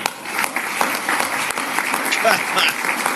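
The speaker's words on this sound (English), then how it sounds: "Please clap" Dense, steady applause from an audience right after a $100 million contribution is announced, filling the whole moment at moderate loudness with a voice faintly audible underneath.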